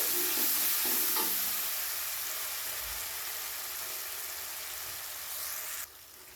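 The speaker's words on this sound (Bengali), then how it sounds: "তো সেই মশলাটা দিয়ে খুব ভালো করে কষাতে হবে তেলের মধ্যে।" A spice paste mixed with water fries in oil for a dahi aloo potol dish while a utensil stirs it. A loud sizzle fades a little and then drops sharply near the end, with light stirring scrapes and no talk.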